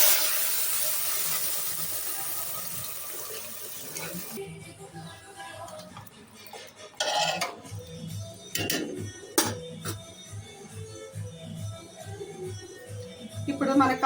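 Hot oil sizzles loudly as a tempering for tomato carrot rasam hits the pan, a strong hiss that cuts off after about four seconds. Scattered ticks, clinks and faint background noise follow.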